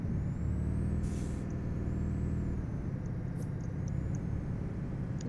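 A heavy truck in Euro Truck Simulator 2 rumbles with a steady low engine drone while short bursts of air-brake hiss cut in, one louder release early on and fainter puffs later.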